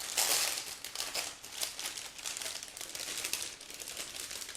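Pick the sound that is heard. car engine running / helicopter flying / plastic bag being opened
plastic bag being opened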